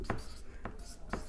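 Marker or chalk writing on a board during a maths lesson on set theory, with three short scratchy strokes at an even pace under a quiet room tone.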